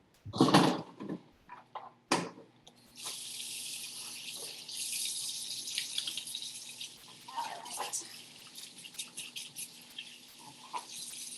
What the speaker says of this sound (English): it goes right, right in the sink and gets rinsed off